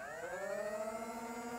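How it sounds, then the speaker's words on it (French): Motors of a Nerf Elite Stryfe foam blaster whir up to full power in a steady, rising electric whine that holds close and even, with no talk over it. "je lance les moteurs"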